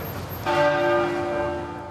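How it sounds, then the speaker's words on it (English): Church bells ringing at Westminster Abbey, a single clear resonant bell stroke blooming in and then sustaining with a long, slowly fading ring. "Bells were rung at Westminster Abbey and at other churches across the country."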